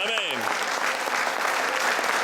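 A church congregation breaks into loud, continuous clapping and cheering that fills the room, with a voice calling out briefly at the start.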